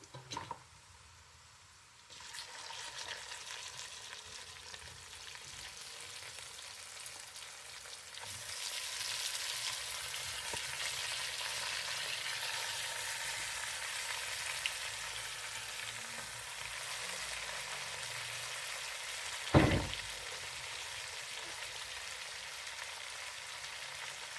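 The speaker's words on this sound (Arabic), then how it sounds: "البصل بدأ يحمر، أضيف اللحم يتحمر مع البصل" Meat browning with onions in a pan for an Adeni lunch gives a steady, close hiss that swells and stays loud, with a sharp utensil clink near the end and no voices.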